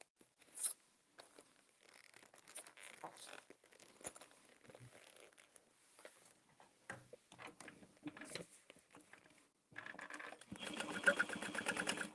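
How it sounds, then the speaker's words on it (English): A sewing machine stitches through the foam in the top of a pack, quiet bursts of rapid ticking stitches separated by pauses, ending in a louder sustained run. "I am sewing through the foam in the top of the bag"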